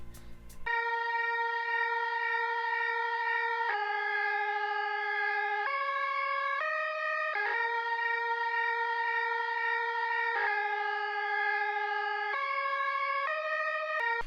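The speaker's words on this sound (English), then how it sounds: "So basically it's just a little melody on top of the organ with just another organ" Lead organ melody in a beat: a bright, sustained electronic organ tone stepping through a short repeating phrase of held notes, loud and alone with no drums or voices.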